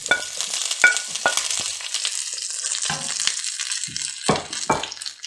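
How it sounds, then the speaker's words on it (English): Ginger, garlic and chili fry hard in hot oil in a pan for a vegan cauliflower stir-fry, a loud close sizzle broken by sharp scraping stirs and clacks of the spatula, with no voices. "Then ginger, garlic and chili. Give a good stir."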